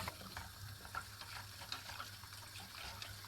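Milk pudding stirred in a pot as it cooks, making soft scraping and gentle bubbling sounds with small ticks, faint and close.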